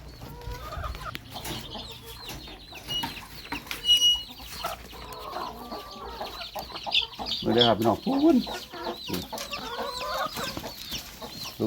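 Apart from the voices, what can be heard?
chickens clucking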